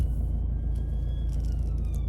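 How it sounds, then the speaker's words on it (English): A police car siren wails past on a road, heard from inside a stuck vehicle over a loud steady engine rumble, the wavering tone faint and gliding slowly downward as it goes by. "now there's a bloody police car coming and I can't move out of the way"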